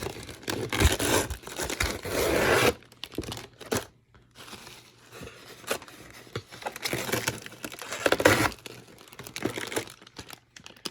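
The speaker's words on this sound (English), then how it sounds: "And of course, our wonderful bubble wrap." Bubble wrap around an SU-47 EDF jet model crinkles and crackles close by in dense bursts, pausing briefly near the middle before the rustling starts again.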